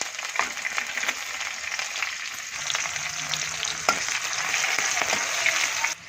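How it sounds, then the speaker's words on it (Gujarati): Mustard seeds, green chillies and garlic dropped into hot oil for a drumstick and onion curry, a steady close crackling sizzle with scattered pops and faint stirring scrapes, no talking. "તેલ મૂકી દીધું છે. રાઈ નાખી દઈએ, લીલા મરચાં, લસણ નાખી દઈએ"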